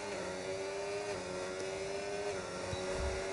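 A McLaren race car engine in a sim racing game on a Saudi Arabia circuit, holding a steady, sustained high drone with a faint shift near the end, heard alone.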